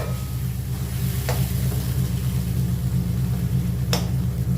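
Vegetables and green chillies being stirred in a frying pan, with a steady close sizzle, a continuous low rumble underneath and two brief scraping strokes of the spatula.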